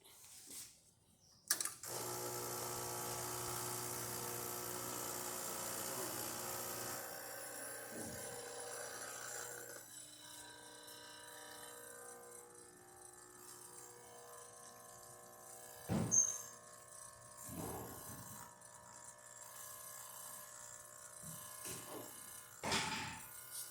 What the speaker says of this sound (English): I made espresso shot on it